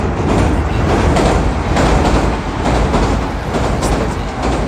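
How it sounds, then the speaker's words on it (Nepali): A train passes close by a closed railway crossing in Japan. It makes a loud, steady rumble and clatter of wheels on rails that fills the whole span without a break. "अब ट्रेन आउँछ अनि जान्छ, फेरि यो खुल्छ"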